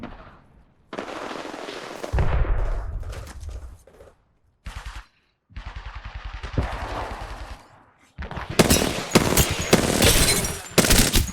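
Rapid automatic gunfire in Apex Legends, bursts of close, loud shots separated by brief gaps, with a sustained heavy volley toward the end and no talking.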